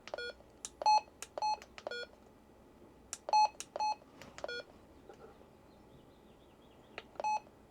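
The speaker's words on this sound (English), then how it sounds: "let's take that beep and turn it way down because that is annoying." An RT95 radio gives off a series of short electronic menu beeps in small clusters with gaps between them, faint and close, with no talking.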